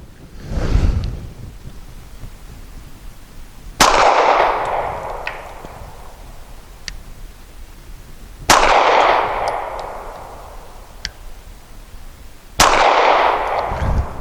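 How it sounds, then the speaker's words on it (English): Shots from a Mossberg MC1SC pistol firing PPU 158-grain subsonic ammunition: a few sharp, loud reports spaced several seconds apart, each followed by a decaying ring. "the PPU Subsonic 158 grain. It's a big old fat bullet, but generally pleasant to shoot."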